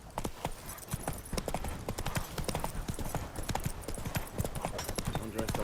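Roach, a horse in The Witcher 3 on PS5, clip-clops along at a steady rhythmic pace, hoofbeats close and fairly loud with a few faint background sounds.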